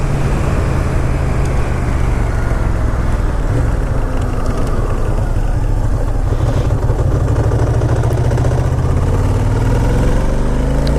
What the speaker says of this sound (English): It has a longitudinal V-twin, classic Ducati, and it's pushing out just over 100 horsepower.